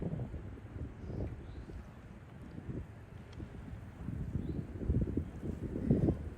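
Wind blows across an exposed mountaintop and buffets the microphone in low, uneven gusts, fairly faint at first and building louder toward the end.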